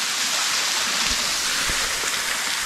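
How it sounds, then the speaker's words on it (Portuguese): Steady broadband roar of a large waterfall beside a rural road, continuous and fairly loud, with no voices over the rushing water. "Olha a cachoeirona bonita aqui, ó."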